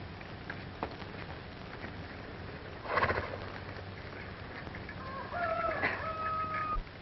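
A horse whinnies among farmyard noises, with a rooster crowing and brief hoof clops against a quiet background.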